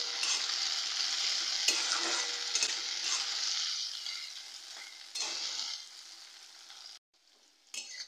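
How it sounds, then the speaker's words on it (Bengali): Sliced bitter gourd drops into a hot pan of oil with whole cumin seeds, giving a loud continuous sizzle with occasional stirring scrapes and a short lull near the end. "এবারে আমি কেটে রাখা উচ্ছেগুলো দিয়ে দিচ্ছি। উচ্ছেগুলোকে ভেজে নেব।"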